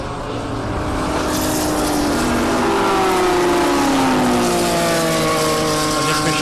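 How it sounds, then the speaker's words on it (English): BMW race cars racing on a circuit, one sliding sideways out of a turn, with loud sustained engine roar and rising, overlapping engine notes as several cars pass close by. "As Master Mo's BMW sent sideways out of turn 4."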